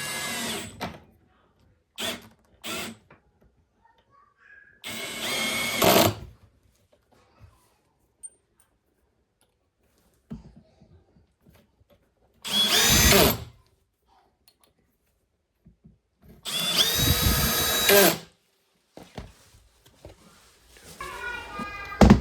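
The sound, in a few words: drill driving hinge screws into a door frame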